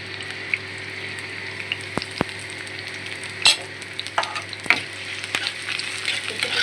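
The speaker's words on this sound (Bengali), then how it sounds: "সুন্দর করে ভাজা ভাজা করলে তারপর মশলা দিতে।" Pieces of Barisal river fish frying in a pan crackle and sizzle up close, with sharp scattered pops and occasional scraping stirs over a steady hiss and no voices.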